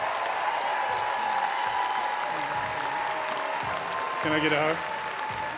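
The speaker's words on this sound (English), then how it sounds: "give a big round of applause for Shirley Kramer" Sustained crowd applause at a transplant games opening ceremony, a steady wash of clapping with cheers, while people speak nearby over it.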